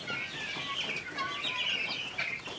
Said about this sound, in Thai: ฟาร์มไก่ต๊อกครับ